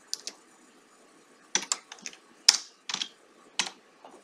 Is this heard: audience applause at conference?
no